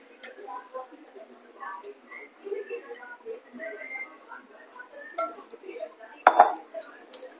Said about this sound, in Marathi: कैरीच्या फोडी याच्यात टाकूया.